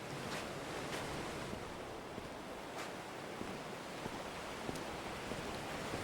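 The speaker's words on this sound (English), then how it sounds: "you just hear the waves crashing" Waves crashing on a shore in the video game Dear Esther, a continuous soft wash of surf with gentle wind, faint and steady throughout.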